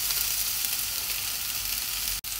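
Onion and garlic sizzle steadily in a little hot oil in a pan, a loud, bright, even hiss heard alone, ending in a brief cut.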